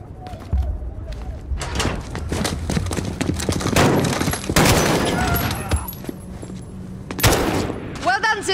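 Gunfire bursts in Call of Duty: Modern Warfare (2019) during a warehouse ambush, loud repeated shots and rattling volleys over a dense battle soundscape, with talking mixed in.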